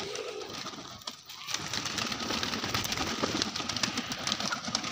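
A group of pigeons coos continuously, with soft, layered calls close by over a faint background hum.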